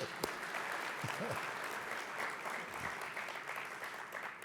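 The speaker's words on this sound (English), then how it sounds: "I'm even clapping for that one." Faint, steady applause from a conference audience at an Ontario municipal gathering, continuous dense clapping heard from a distance for the whole stretch.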